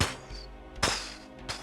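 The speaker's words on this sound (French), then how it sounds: "des explosions dans la distance." Distant explosions used as a sound effect in a Dune tabletop role-playing session: three muffled booms, one at the start and two more spaced about 0.7 seconds apart, each a sharp burst with a rumbling tail.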